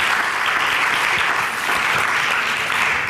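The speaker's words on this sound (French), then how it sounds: "J'aimerais, Inch'Allah, que vous les remerciez en les applaudissant tous" An audience at the closing session of an international annual conference applauds the organisers, steady dense clapping filling the hall from start to finish with no pauses.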